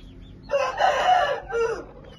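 Hens in a backyard coop cluck and squawk in a short, close burst of two raised calls over a quiet background.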